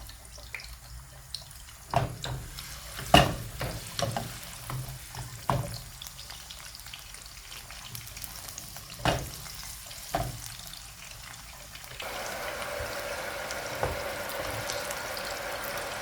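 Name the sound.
chopped onions frying in a pan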